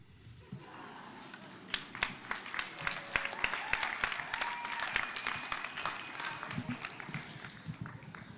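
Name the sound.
audience applause after spoken word poem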